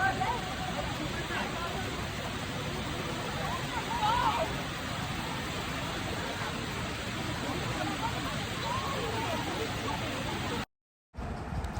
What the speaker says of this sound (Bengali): একটু ঝর্ণার সাউন্ড উপভোগ করুন